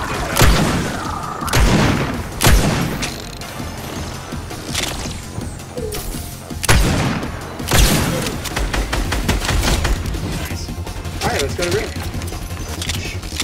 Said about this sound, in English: You're shooting me? Stop it!